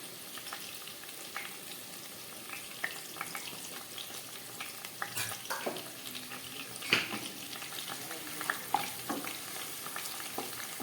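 Onion and capsicum fry gently in a pan over a low gas flame, a soft, steady sizzle with scattered scrapes and clinks of a spatula stirring, no voices.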